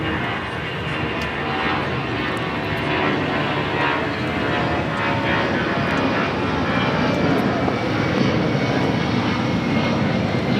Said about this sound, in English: 757 heading to Salt Lake City